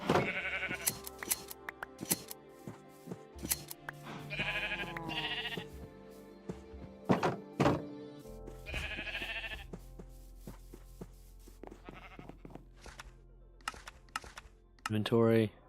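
Sheep bleat in a video game while getting ready for a world reset, several short bleats scattered across the stretch amid clicky game sounds and a voice talking over them.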